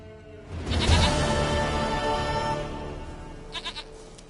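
Goat bleating in The Witcher 3 video game, a loud, drawn-out bleat up close, followed by a few short, fainter bleats near the end.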